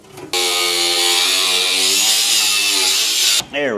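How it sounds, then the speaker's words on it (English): A power tool cutting off the steel battery box of a 1958 Plymouth Fury during a car build, a loud, steady, high-pitched whine held for about three seconds, close and alone. "I might just cut the whole battery box off."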